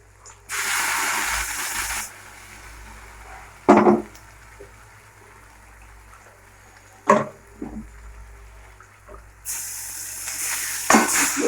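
Ground spice paste added to lightly fried onion in hot oil, giving bursts of loud sizzling at the start and end with quieter frying and a few clattering stirs in between.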